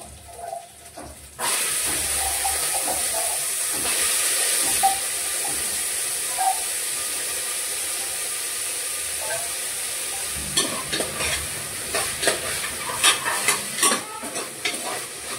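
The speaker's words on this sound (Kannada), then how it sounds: "ತರಕಾರಿ ಒಂದು 5 ನಿಮಿಷ ಸ್ಲೋ ಫ್ಲೇಮಲ್ಲಿ ಇಡ್ತೇನೆ ನಾನು, ಬೇಯಬೇಕಲ್ಲ ಅದಕ್ಕೋಸ್ಕರ." Carrots and beans cook in a pan over a slow flame, giving a steady soft sizzle and steamy hiss close by, with a few stirring clinks and scrapes toward the end.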